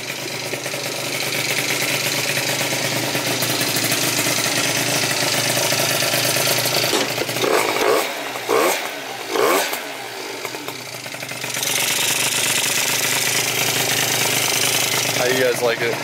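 Honda Zuma 70cc scooter with a Yasuni exhaust, engine revving hard in a loud buzzing drone that drops into a few choppy blips mid-way before climbing back to a sustained high rev.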